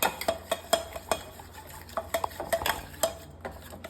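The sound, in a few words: stirring and mixing dosa batter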